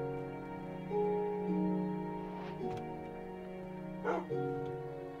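A dog barks a few times over a steady electronic game soundtrack with sustained musical tones.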